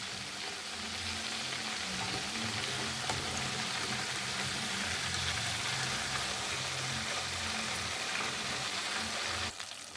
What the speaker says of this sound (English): So I'm frying the next batch.